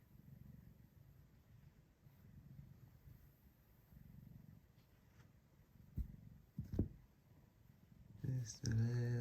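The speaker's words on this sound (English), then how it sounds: "He's purring away." A cat purrs softly and steadily at close range in a quiet room, a low rumbling hum broken by a few clicks and rustles, with a soft-spoken voice joining near the end.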